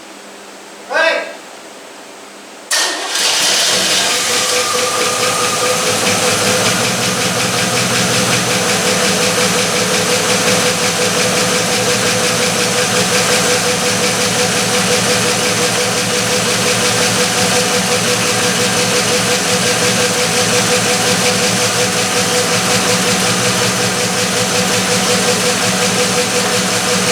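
A 1973 Chevrolet K10 truck engine fires up and settles into a loud, steady idle that runs uninterrupted and close by, with a brief shout heard just before it catches.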